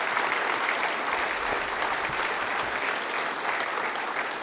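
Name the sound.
audience applause at university announcement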